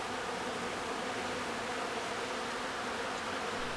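Dense, steady buzzing of many bees swarming around the main entrance of an abandoned building, a continuous insect drone heard from a few feet away with no voices.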